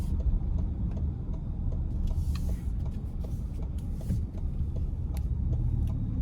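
Steady tire roar on pavement from inside a 2023 Lincoln Nautilus Black Label riding on 21-inch wheels, a continuous broad rumble with faint ticks and bumps over the road surface.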